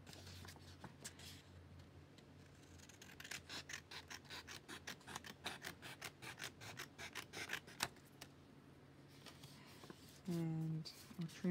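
Scissors trim the edges of paper printouts for a journal collage, a run of quick crisp snips and rasps in a steady rhythm, close and fairly quiet, with a voice speaking briefly near the end.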